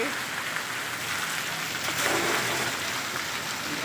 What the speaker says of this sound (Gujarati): બહુ મસ્ત વરસાદનું વાતાવરણ છે